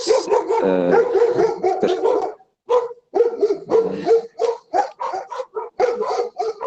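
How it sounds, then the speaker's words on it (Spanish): A dog barks repeatedly at close range, loud sharp yaps in an irregular run with brief pauses, some whiny and high-pitched. "creo que su perrito lo está ladrando, lo está exigiendo su cena"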